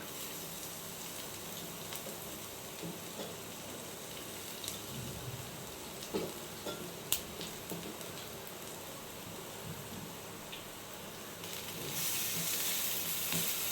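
Garlic sizzling in a frying pan, a quiet continuous hiss with occasional small pops and a light clink, steady throughout and swelling slightly louder near the end, no talking.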